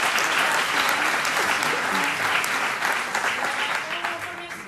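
A hall audience at a Christmas show claps hard for the team, a dense, steady wash of many hands that holds strong and then slowly thins toward the end.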